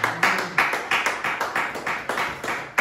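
A church congregation claps for the Lord, a steady run of loud, close handclaps in a quick regular beat, around four claps a second, with no talking over it.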